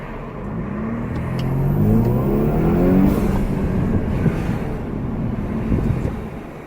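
A 2018 Audi A5 Sportback engine with an aftermarket 034 Motorsports intake revs up hard and roars as it accelerates, heard from inside with windows down, a steady loud drone with rising pitch that holds, then eases slightly.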